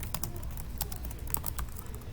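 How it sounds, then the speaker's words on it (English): Keys on a computer keyboard are tapped in an irregular run of soft clicks, close and fairly quiet against a low room hum. "just typing something to make sure it is updated."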